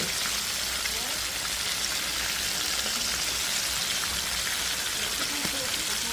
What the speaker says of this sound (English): And it's frying up here nicely.